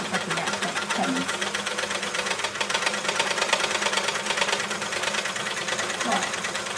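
An Elna L4 overlocker serger runs steadily as fabric is guided through, giving a dense, continuous mechanical whirring and knocking that stays up close and fairly loud throughout.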